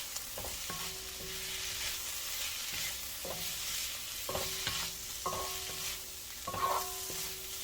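Vegetable stir-fry being stirred in a wok, with a steady background sizzle broken by scattered scraping and clanking strokes of the utensil against the pan; no talking.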